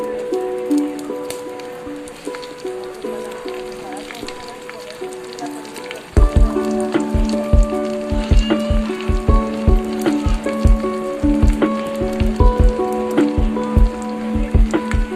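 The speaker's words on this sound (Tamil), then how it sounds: "பாருங்க, நல்லா பொரிஞ்சிருச்சு" Mustard seeds tempering in hot oil for a banana flower stir-fry crackle and pop in rapid irregular bursts over a steady sizzle, close and loud, growing sharper and denser partway through.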